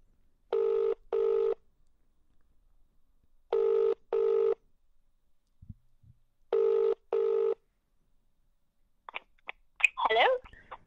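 Outgoing phone call ringing: three pairs of double ring tones, evenly spaced with silent gaps, clear and close, followed by faint handling noises and a brief voice at the end.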